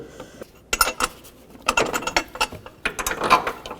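Bolts being snugged down on the engine mount of a 2009-17 Chevy Traverse, heard as close, irregular metallic ratchet clicks and clanks in short bursts with brief pauses between.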